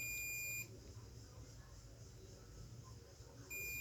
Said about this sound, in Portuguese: Ó o multímetro bipando